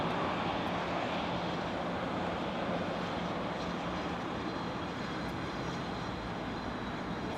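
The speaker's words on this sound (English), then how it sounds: "Nice Tide Pod plane you got there." An airliner taxiing close by on a taxiway at LAX gives a steady, loud engine roar with broadband rush that holds evenly throughout, with no voices.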